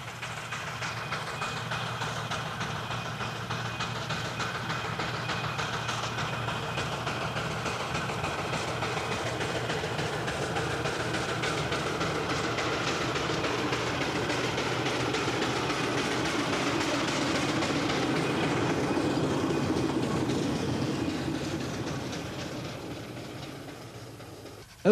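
A 5NHP Burrell road locomotive traction engine, Conqueror, runs along the road towing a traction wagon and living van, a steady mechanical chuffing and rumble that slowly swells and then fades, with no talk.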